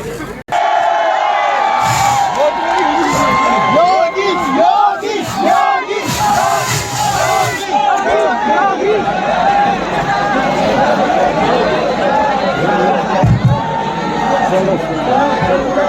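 A huge, dense crowd at a Yogi Adityanath political rally in Kotdwar roars continuously with shouting, chanting and chatter, loud and close throughout, with occasional louder cheers rising above the hubbub.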